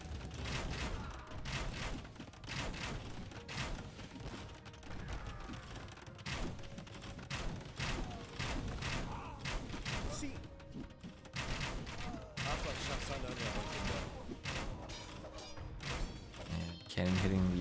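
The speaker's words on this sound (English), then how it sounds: "Cannon hitting the other cannon." Cannons fire in an Age of Empires II battle on the Cartograph map. Repeated booms and thuds mix with clanking mechanical clatter in a dense, continuous din of combat.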